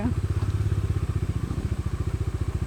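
A motorcycle engine chugs in a steady rapid rhythm while the bike climbs over large rocks on a badly broken rural monsoon road, loud and close throughout with rattling underneath.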